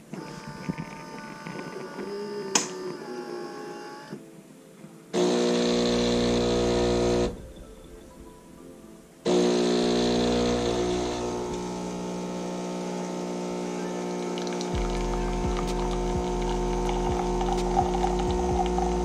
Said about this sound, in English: It's grinding coffee for it grinds each cup.